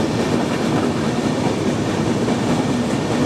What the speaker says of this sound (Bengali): এই যে এখানে একটা ট্রেন আছে, এইটা হচ্ছে আমাদের মনে হয় বাংলাবান্ধা এক্সপ্রেস নাকি চিলাহাটি এক্সপ্রেস ট্রেন আমরা ধরলাম।